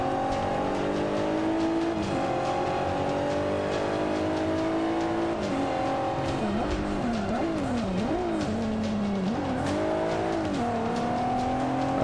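Race car engine in Forza Motorsport 5 at Laguna Seca, loud and continuous, revving up through gears with rising and falling pitch sweeps, brief dips on shifts and through corners, no talk.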